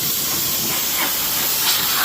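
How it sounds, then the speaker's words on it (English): An aerosol sprayer spraying lubricant onto chains and springs, a loud, steady close-up hiss that runs unbroken for a couple of seconds. "this sprayer works really well"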